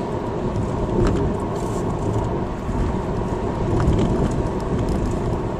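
Steady road rumble and tire roar from inside a car driving a cracked, bumpy mountain road over Willsboro Mountain, loud and continuous with faint thumps from the uneven surface.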